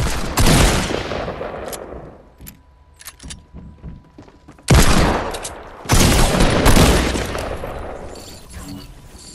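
Repeated gunfire bursts in a battle royale video game match, loud sharp volleys with short gaps, some sustained rapid firing, and quieter clicks and faint voice in between.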